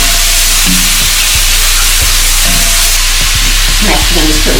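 Mushrooms fry in a hot pan with a loud, steady sizzle and hiss. A utensil stirs and tosses them, adding repeated scrapes and clinks on top.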